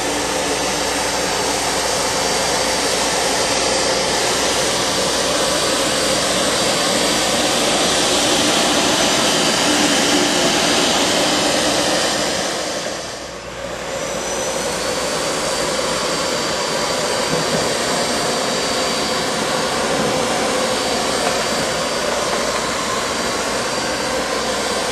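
A Miele S7 upright vacuum cleaner running on tile and wood floors, a loud, steady whooshing motor roar that dips briefly midway before resuming, with no speech.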